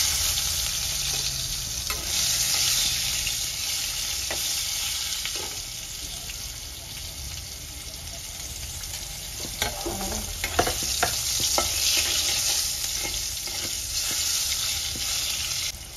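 Tomatoes sizzle loudly in hot oil tempered with cinnamon, cardamom, bay leaf, whole dried chilli and cumin, a steady close frying hiss broken by occasional spoon scrapes and clicks as the pan is stirred.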